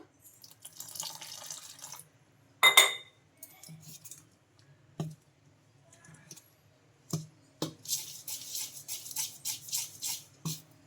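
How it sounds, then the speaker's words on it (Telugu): Water pours and splashes as ragi and moong dal dosa batter is stirred by hand, with intermittent bursts of sloshing and scraping separated by quiet gaps, close and moderately loud, no voices. "ఇంకా ఈ వాటర్ వేసేసుకొని పిండి మొత్తం బాగా కలిపేసుకున్నాం కదా"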